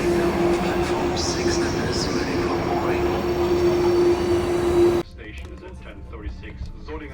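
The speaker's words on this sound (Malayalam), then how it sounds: "ഇതാണ് ICയുടെ ഹാംബർഗിലേക്ക് പോകുന്ന IC ട്രെയിനാണ്." An IC intercity train bound for Hamburg pulls into a station, giving a loud, steady rumble with a sustained hum that cuts off abruptly to a quieter scene with faint voices.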